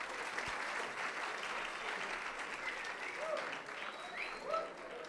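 An audience in a lecture hall applauds with sustained, dense clapping at moderate distance, steady throughout, with faint voices underneath.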